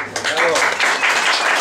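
Applause from an audience at a live orchestra performance at a birthday party, honouring the guitarist; dense continuous clapping that stays loud throughout, with faint voices underneath.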